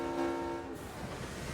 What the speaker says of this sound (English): Do I have a whistle? I have a horn.